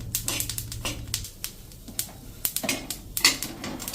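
Roasted kalonji and sesame seeds tipped from a hot iron griddle onto a plate, heard as a scattered run of light rattling clicks and tinkly metal scrapes, close and fairly quiet, with no talking.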